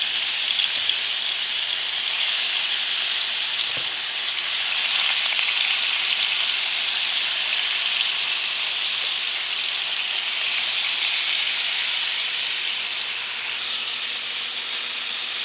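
Fish pieces fry half-done in hot oil for fish biryani, giving a strong, steady crackling sizzle that stays loud and even throughout, with a faint knock now and then and no voices.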